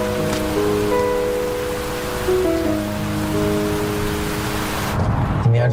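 Rain falls as a steady, dense hiss throughout, partly masked by sustained music, with a heavier burst at the very end.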